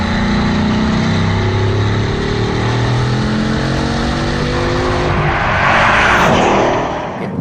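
A Bugatti Chiron hypercar with a turbocharged engine pulls hard through the gears, its loud, rising engine note climbing in long sweeps with a shift-like break before surging on, heard alone without talk.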